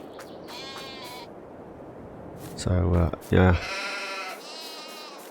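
Sheep in sheep pens bleat in a farming video game, with a couple of loud, close bleats in the middle, a wavering higher cry before them and another after, while someone talks over parts of it.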